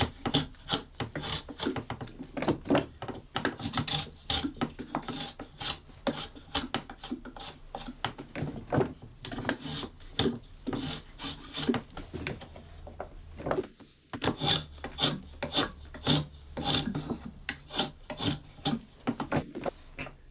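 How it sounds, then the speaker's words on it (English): A drawknife shaves a wooden rake tooth by hand in a rapid, rhythmic series of rasping strokes, close and dry, with a short pause partway through and no voices. "This setup allows each rake tooth to be shaved down gradually, thinned just enough while still retaining a square edge."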